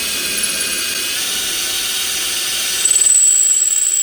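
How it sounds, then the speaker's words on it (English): A power drill with a larger bit bores a hole through wood, whining steadily at a high pitch, then grows louder and sharper near the end as the bit bites deeper. "come back with a larger drill bit to drill the larger hole"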